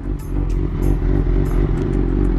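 BMW S1000RR motorcycle pulling away, its engine a loud, steady close-up drone with some light clatter over a deep rumble, heard alone.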